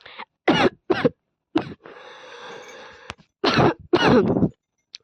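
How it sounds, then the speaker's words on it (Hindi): A woman coughs in several sharp, close bursts, with a stretch of raspy throat clearing between them, all loud and alone against silence. "देखा मुझे खांसी हो गया"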